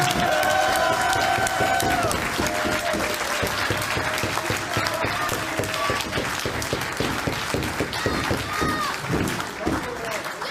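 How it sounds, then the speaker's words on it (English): Loud, sustained applause from a big audience at a PWG professional wrestling event fills the whole stretch, with scattered cheers and shouts rising through the clapping. "give yourselves a round of applause."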